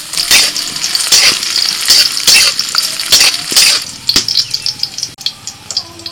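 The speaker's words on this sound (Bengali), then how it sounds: "প্রথমেই কাজু কিশমিশ ভেজে নিচ্ছি" Cashews and raisins sizzle in hot white oil in a kadai, with a steady close frying hiss broken by repeated scraping stirs of a spatula against the pan.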